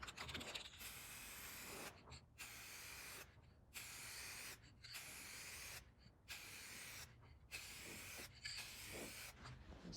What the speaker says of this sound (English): we're going to spray that and the inside of the support section with the Extreme Chassis Black